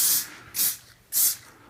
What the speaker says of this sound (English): I'm just going to do a fairly quick spray there